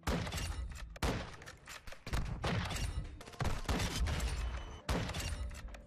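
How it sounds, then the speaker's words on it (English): Rapid, loud gunfire from a mounted gun in Call of Duty: Modern Warfare 2, with dense automatic bursts that run almost nonstop and break only briefly between volleys. "This gun is like, should not be allowed in Call of Duty."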